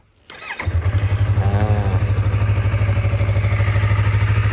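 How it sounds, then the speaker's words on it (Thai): A 2015 Yamaha MT-03 with about 15,000 km on it cranks briefly, catches and settles into a steady, throbbing idle, loud and close with an even pulsing rhythm and no talking. "สตาร์ทฟังเสียงเครื่องยนต์กันนะครับ"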